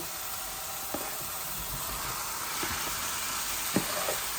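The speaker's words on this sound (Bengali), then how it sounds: "চিকেন আর আলু আমি এখানে ঢেলে দিচ্ছি" Chicken and potatoes poured into a hot pan of cooked onion and ginger, a steady loud sizzle with a few soft clinks and thumps scattered through.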